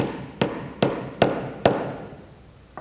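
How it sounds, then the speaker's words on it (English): Four sharp, evenly spaced hammer strikes drive a piece of rubber, frozen stiff in liquid nitrogen, into a wooden board, each crack ringing briefly and loud and close, followed by a softer knock. "Piece of rubber, hammered right into a board because it's so cold and stiff."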